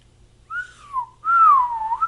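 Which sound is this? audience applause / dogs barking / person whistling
person whistling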